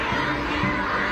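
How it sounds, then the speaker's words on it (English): Crowd of children cheering and shouting at an elaborate state welcome in Beijing for President Trump, a dense, steady wash of young voices filling the short moment. "Children jumping and cheering."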